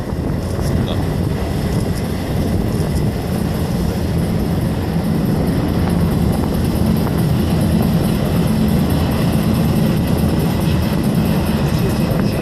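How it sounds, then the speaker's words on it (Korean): A formation of UH-60 military helicopters flies over during an amphibious air assault at a navy fleet review, a loud steady roar of rotor and engine noise with wind buffeting, continuous for the whole stretch. "해군 상륙 기동 헬기인 UH-60 편대가 공중 돌격을 실시하고 있습니다"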